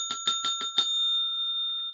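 A jail bell sound effect: five rapid bright rings, followed by a steady ringing tone that holds for about a second before cutting off.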